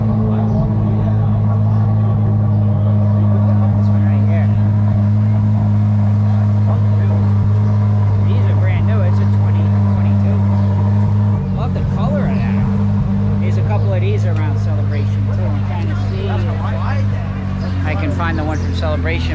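A Corvette engine at an exotic car show in Celebration, Florida rumbles steadily at idle, then its tone shifts as it revs partway through, with people talking over it.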